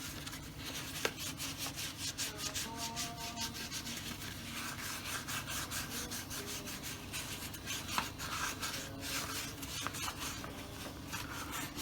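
Continuous rapid rubbing of 320 grit sandpaper worked by hand over body filler on a car trunk lock hole repair, steady back-and-forth strokes close up with occasional light knocks.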